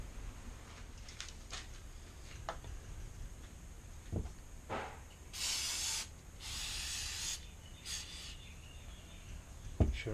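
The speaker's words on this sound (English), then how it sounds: "So I'll just spray some brake cleaner on this before I do it." Two long, loud hissing sprays of brake cleaner burst out one after another onto oily MGB front suspension parts, with a few shorter sprays and light clicks before and after.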